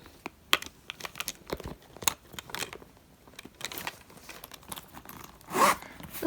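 Zipper on a Faure Le Page carry-on pouch pulled closed over a full load of compact, hair clip, perfume and small brush, heard as scattered close-up clicks and rasps ending in a louder zip.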